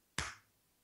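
One sharp hand clap rings out alone in a quiet room, a single crisp hit that decays within a few tenths of a second.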